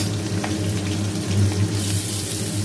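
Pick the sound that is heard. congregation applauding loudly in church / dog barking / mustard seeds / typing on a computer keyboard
mustard seeds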